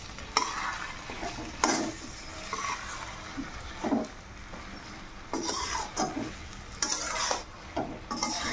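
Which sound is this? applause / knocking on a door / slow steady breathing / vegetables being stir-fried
vegetables being stir-fried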